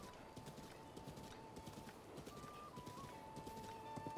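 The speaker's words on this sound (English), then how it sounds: "Seriously, this horse is awesome." Horse in the video game Zelda: Breath of the Wild, steady rhythmic clip-clop of hooves at a gallop with a whinny partway through, quiet overall.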